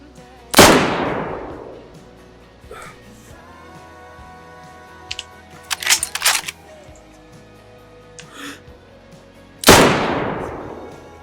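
Guns in the video game Screaming Dayz fire two loud, isolated shots several seconds apart, separated by mechanical clicks and a short burst of rattling reload handling.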